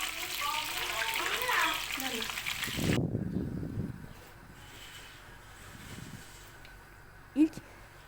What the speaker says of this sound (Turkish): Bir kaşıkla da e, şöyle üzerine yağ gelmeyen yerlere ara ara böyle e, yağ, kızgın yağ atıyorum.